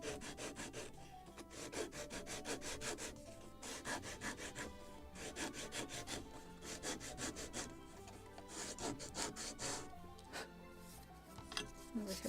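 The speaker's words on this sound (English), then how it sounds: "Chamfer edges on both sides." A wooden plank for a model of the 1776 gunboat Philadelphia has its edges chamfered by hand, giving a steady rasping scrape in quick repeated strokes, close and fairly quiet.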